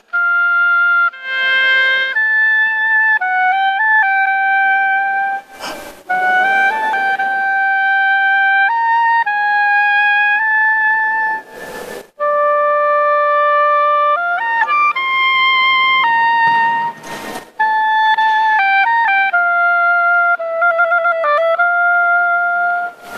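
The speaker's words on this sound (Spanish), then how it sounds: "Quiero escucharte 10 segundos tocando el oboe solo para nosotros." Solo oboe playing a melodic passage, clear reedy sustained notes moving up and down in pitch, close and fairly loud, with a few brief breaths or gaps between phrases and no talking.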